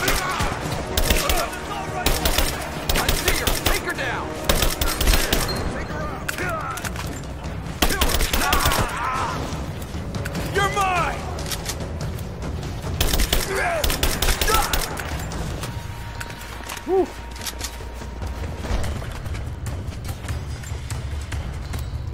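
Gunfire in the PC video game Rise of the Tomb Raider: dense, rapid bursts of shots in repeated volleys, loud and close, with a player's voice heard between the bursts.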